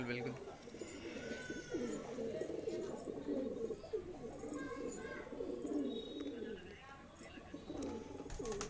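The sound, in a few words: pigeons cooing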